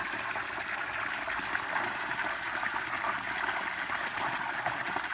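Water pours steadily into cattle water tanks in a farm paddock, a constant close rushing gush with no pauses, heard alone without talk.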